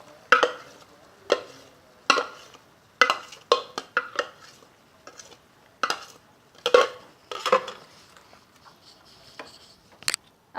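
Tomato, tomato paste, onion and yogurt mixed into chicken frying in a pan, giving a run of close, sharp clanks and scrapes of a spoon against the pot in an uneven rhythm, with a soft background between strikes.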